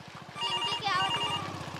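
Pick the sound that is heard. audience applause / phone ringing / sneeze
phone ringing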